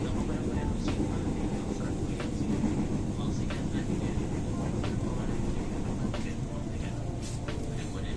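A CommuterLine commuter train on the Blue Line toward Cikarang via Manggarai runs at a slow pace, giving a steady, loud rumble and rattle throughout, with people talking over the noise.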